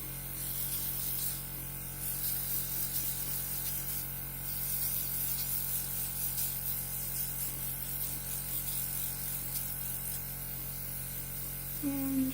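Airbrush makeup spray from a small three-speed air compressor machine, a steady close hiss with a constant motor hum underneath, running unbroken throughout.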